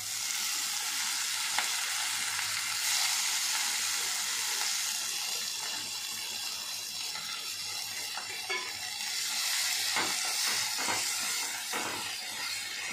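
Tamarind leaves going into a chana dal curry in a pan, giving a steady broadband sizzle and hiss with occasional stirring scrapes and clinks, continuous and close throughout, no voices.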